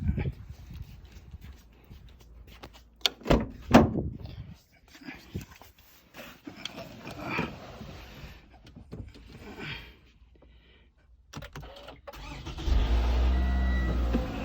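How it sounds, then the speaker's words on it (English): A car with a weak battery cranks over on a jump start and its engine catches near the end, settling into a loud, steady idle after a stretch of scattered handling noises and a person talking. "Okay, the car started."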